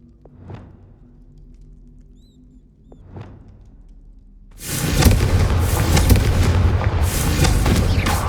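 Confringo fire spells in Hogwarts Legacy land as two separate booming blasts, then erupt into a loud, sustained roaring burst that fills the rest of the moment.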